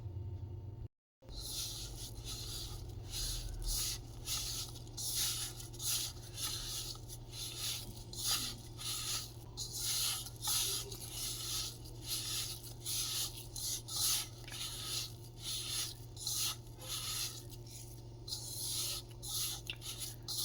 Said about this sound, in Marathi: तर हे चांगलं तुपामध्ये गुळाची पावडर मिक्स करून घ्यायची, चांगलं असं हे करून घ्यायचं